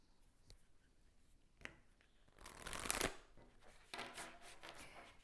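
Tarot cards being shuffled: soft, quiet riffling and shuffling at close range, with a denser flurry of card flicks in the middle, a few light taps and no talking.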